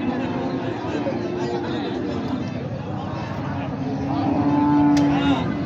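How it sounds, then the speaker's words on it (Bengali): Cows at a cattle market in Raniganj, with a long low moo rising over a dense crowd babble and people talking nearby. "এই যে পাশে আরো একটি গাভী দেখা যাচ্ছে।"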